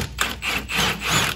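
A stuck bolt being worked out with a wrench while lifting a Ford Bronco Sport, heard as several close rhythmic scraping, grinding rubs of metal in steady strokes.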